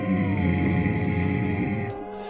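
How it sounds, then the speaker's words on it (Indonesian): A creature growls in a horror story, a low, continuous guttural rumble with tonal overtones that holds loud and steady, then cuts off abruptly near the end and leaves a quieter tail. "Hanya geraman yang terdengar"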